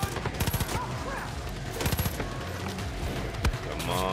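Rapid bursts of gunfire from the Far Cry New Dawn video game, several loud volleys and sharp shots spread across the clip, with a voice speaking in between.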